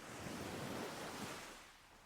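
Ocean surf on a Florida beach washes in as a soft, steady broadband rush that swells and then eases slightly, faint and continuous with no voices.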